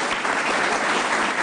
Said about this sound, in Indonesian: beri tepuk tangan untuk anggota DPR fraksi PDIP, Mas Budiman Sujatmiko